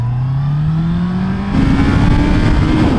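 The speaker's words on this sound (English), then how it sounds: "you can get going on this bike, and acceleration is good" A Honda CB650R motorcycle accelerates hard up close, its engine note rising steadily, briefly dipping at a gear change, then climbing again with a louder, gruffer tone.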